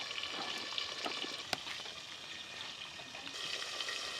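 Potatoes fry steadily in a pan, a continuous close sizzle with occasional sharper pops and crackles, no voices over it.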